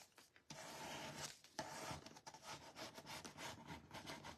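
Folded card paper creased with a Pampered Chef scraper, heard as a close, steady dry rubbing and scraping that runs on with small pauses.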